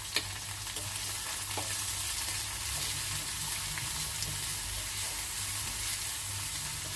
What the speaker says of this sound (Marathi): आता मी पहिला लसूण घालते याच्यामध्ये मिरची तर आपण परतून घेऊयाचं आणि लगेचच आपल्याला कांदा घालायचा आहे